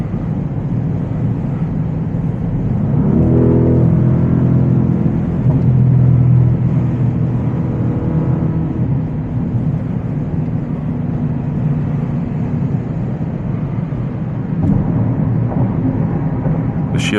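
An Audi RSQ8 cruising at speed, a low, steady engine and road rumble heard from inside the cabin with a slight swell in the middle as the gears change smoothly, no voices.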